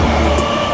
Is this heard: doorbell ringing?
no